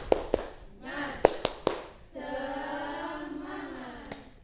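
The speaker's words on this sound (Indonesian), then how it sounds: "kita tepuk semangat dulu ya" Classroom group doing the rhythmic spirit clap, sharp unison hand claps in a short patterned sequence, fairly close, with voices chanting and speaking between and after the claps.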